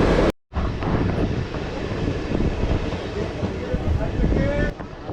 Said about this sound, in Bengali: ট্রেনটা ঢুকলো কাটোয়া জংশন